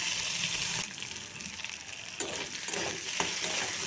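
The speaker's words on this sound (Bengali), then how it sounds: "তো কচুটা একটু নাড়াচাড়া করে নেবো" Taro frying over onions in a pan is stirred, giving a steady close sizzle broken by scraping and shuffling as the pieces are turned, with no talking.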